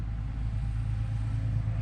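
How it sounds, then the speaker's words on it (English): Loud truck passing on a road in Croatia, a steady low rumbling engine drone heard close by for a couple of seconds with no talking. "Loud truck."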